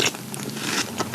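Someone biting into crunchy, airy Magic Spoon cereal up close, a quick series of crisp crunching and crackling sounds with no talk.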